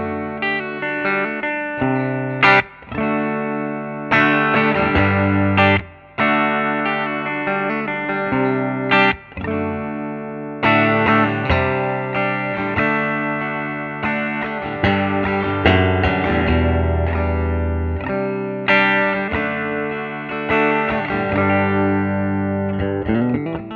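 Bridge-pickup tone from a Fender Custom Shop Strat played through a hand-wired Vyse Renegade tube amp, controls at noon: continuous loud strummed chords and picked lines with brief pauses, driven and slightly chorused, no voices.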